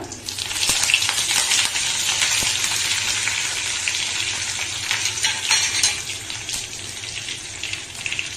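Curry leaves crackle and sizzle in hot coconut oil, a loud steady hiss with sharp pops scattered across it.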